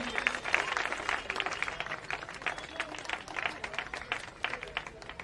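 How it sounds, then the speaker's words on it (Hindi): An audience claps at a public meeting in an outdoor village gathering, giving a steady ripple of applause from many hands that lasts about five seconds at a modest, somewhat distant level. "एक जोरदार तालियां दीजिए।"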